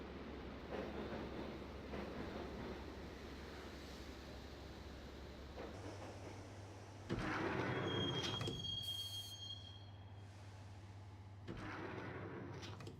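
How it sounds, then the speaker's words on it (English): A subway train ride in the game Max Payne: a steady rolling rumble of wheels on rails, a shift in the engine hum, then a loud burst of metallic screeching and clatter before the train settles, with no voices. "the train doors had already shut behind me, and I was in for the ride"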